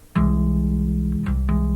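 An augmented chord tapped with two hands on a bass guitar rings out as a sustained low chord after a sharp attack, with a couple of further tapped accents as it sustains close and clear.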